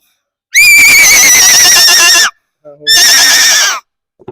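A boy imitates a horse's whinny with his voice, two loud, shrill, wavering neighs close to the listener, the first long and the second shorter, separated by a brief pause.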